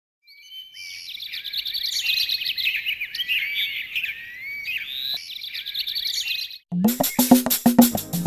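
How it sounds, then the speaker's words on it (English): Birds chirp and trill continuously in bright, close calls, followed by a burst of sharper rhythmic tweets near the end. "Birds."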